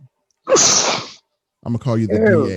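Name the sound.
sneeze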